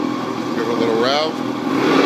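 A 1991 Lund Angler 1600 SC fishing boat's outboard motor runs in gear and is briefly revved, a steady close-up engine drone with a short rising whine in the middle and no speech.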